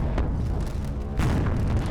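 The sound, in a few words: nuke explosions in video game Space Engineers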